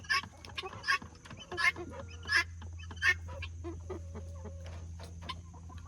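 Bielefelder and barred cross chickens in a farm flock cluck and call in several loud, spaced bursts over a steady low background hum, with no talking.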